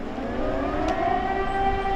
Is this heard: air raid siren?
yes